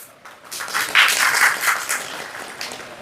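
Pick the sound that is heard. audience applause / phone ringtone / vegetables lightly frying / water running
audience applause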